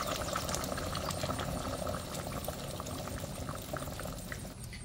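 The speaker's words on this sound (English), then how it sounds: "We will start boiling with the water and making our soup." Water boils hard in a pot for garlic soup, a dense, continuous bubbling and roiling that holds steady throughout at moderate volume.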